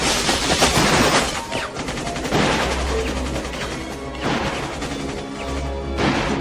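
Gunfire in a shootout, with dense bursts of shots and crashing impacts on windows, loud and continuous throughout with no clear speech.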